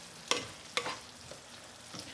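Green vegetables frying in a pan, stirred with a utensil: a few sharp scraping knocks stand out above a soft, low sizzle, with quiet gaps between strokes.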